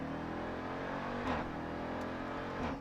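A 2018 Jeep Grand Cherokee Trackhawk engine pulls hard under acceleration, a steady loud drone from inside the cabin broken by a few sharp snaps as the gears shift up.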